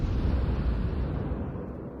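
A cruiser, the Mogami, shells a ship in World of Warships, producing one dense, rumbling explosion that rolls on and slowly fades over about two seconds, with no talking.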